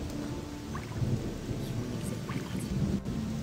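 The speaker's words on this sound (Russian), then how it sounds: "ну что, дождь так и хлещет" Heavy rain pours down in the Gothic 2 video game, a dense, steady hiss with low rumbling beneath and a few scattered drop sounds, moderately quiet and with no talk.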